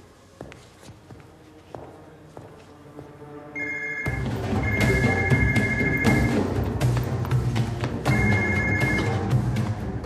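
A telephone rings loudly in repeated electronic trills, three bursts with short gaps between them, over a busy background of movement and scene noise.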